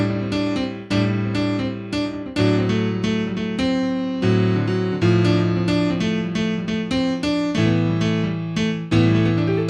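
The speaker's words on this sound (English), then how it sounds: "Halfway through the song, listen for a piano solo that sounds like this." Solo piano playing a lively passage of dense chords and runs over a steady left hand, with repeated rhythmic attacks throughout; close, full and continuous, with no voices.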